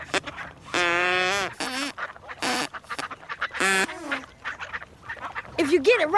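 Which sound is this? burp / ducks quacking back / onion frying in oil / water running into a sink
ducks quacking back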